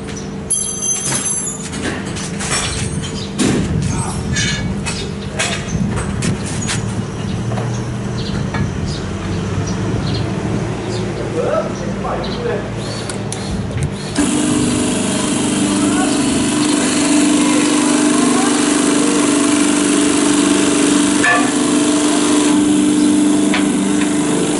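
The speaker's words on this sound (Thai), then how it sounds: "เดี๋ยวเราจะมาลองเทสการเจาะคู่กับปั๊ม" HHM-70 busbar punching tool driven by a CB630E pump runs with a steady, loud mechanical whine and rattle, then the tone shifts and hums higher and more evenly partway through as it works; a voice speaks over it.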